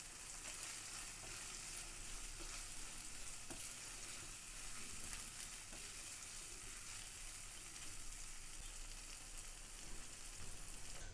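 Vegetable gravy with frozen peas simmering and sizzling in a pan, a steady soft bubbling hiss that runs on without a break and without any voices.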